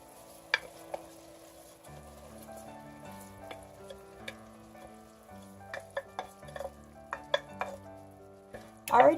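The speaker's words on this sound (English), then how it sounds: "I'm simply going to add my rice and then stir everything together." Rice being stirred into a pot of braised salted beef in oil, giving soft scraping stirs and a few sharp utensil knocks against the pot over a faint sizzle, with a louder clatter at the very end.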